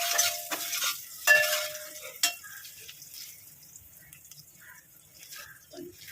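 Masala spices for a spicy dal frying in a pan, a soft sizzle with a few sharp stirring clatters early on, close, then settling into a quieter crackle.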